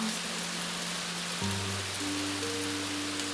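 Steady rain falls at night in a soft, even hiss, faint and continuous, with low sustained tones underneath.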